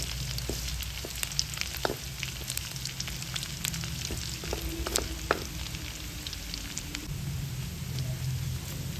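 Garlic fries in a pan while cooking Filipino dinuguan, a soft steady sizzle with scattered crackles and pops, close and fairly quiet, with no talking.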